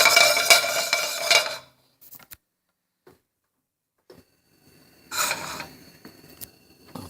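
Quinoa toasting in butter is stirred in a pan with a utensil, giving two bursts of close scraping and clinking separated by near silence and a few isolated light ticks.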